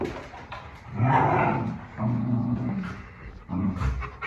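Dogs play-fighting in a sparring session, with repeated low growls and snarls in close, overlapping bursts, loud and near, with no talk.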